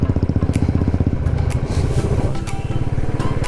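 A motorcycle rides a winter road around Auli, its engine chugging in a fast, even pulse close to the rider, with scrapes and clatter mixed into the steady loud drone.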